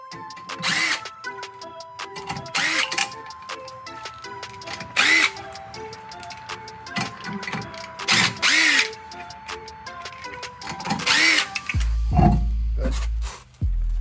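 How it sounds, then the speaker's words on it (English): An impact gun works on the lug nuts of a car wheel, firing in several loud hammering bursts separated by short pauses, close by, ending with a heavy low thump. "we'll try it with the impact gun"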